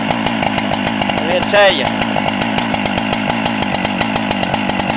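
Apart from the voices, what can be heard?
Husqvarna 395XP chainsaw with 24 inch bar idling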